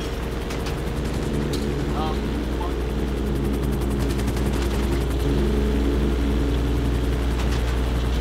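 Helicopters in the video game GTA 5 Online, a steady loud rotor drone with a constant low throb that runs without a break, while a voice talks over it at times.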